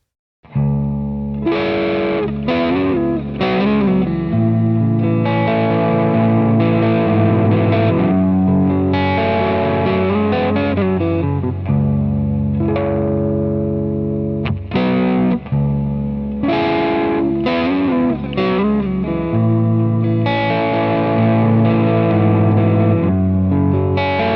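A distorted electric guitar plays a rhythm part with chords and single notes under a Sonnox Oxford Reverb set to a long tail with the wet-dry mix very low, leaving only a slight ambience. It is loud, close and continuous for the whole stretch.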